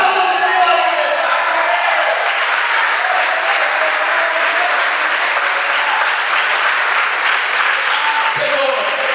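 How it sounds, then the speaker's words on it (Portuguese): A church congregation applauding together in a dense, continuous wash of clapping that holds steady throughout, with crowd voices mixed in. "Aplauda o Senhor, igreja."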